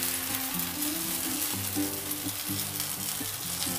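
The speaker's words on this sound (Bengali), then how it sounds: "এবার ভেজে নেব। বড় চামচের 1 চামচ ব্যাটার দিলাম।" Semolina and pumpkin pancake batter sizzles steadily in a hot pan, a continuous close frying hiss with a music bed running underneath.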